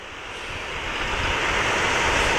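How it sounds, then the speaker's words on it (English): A wave splashes over a small powerboat pushing off through shore break, a loud, broad rushing wash of water that swells steadily over a couple of seconds, with wind roaring across the microphone. "Ah, that's a splash over."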